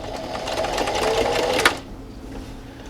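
A sewing machine backstitches a dust mask seam in a fast, steady whir of needle strokes for about a second and a half, then cuts off abruptly into near quiet.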